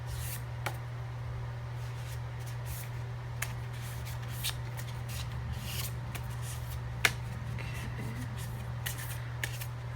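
Soft riffling and shuffling of tarot cards, with occasional sharp taps and snaps over a low steady hum, no voices.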